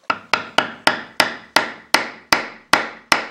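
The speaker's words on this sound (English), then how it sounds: "then I'm going to put it on the center point here, and then I'm just going to punch a little hole in" A scratch awl punches a starter hole in red oak: about eleven sharp, loud, evenly spaced knocks with quick decays, each ringing briefly, with no voices.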